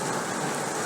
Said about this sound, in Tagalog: So, hindi pa rin humihinto ang ulan.